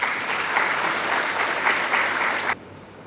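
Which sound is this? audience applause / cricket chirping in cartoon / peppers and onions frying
audience applause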